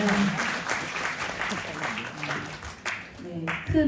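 Audience applause at Ajou University's 2024 admissions conference, a spread of hand claps in a hall lasting several seconds, with a speaking voice coming through over the clapping.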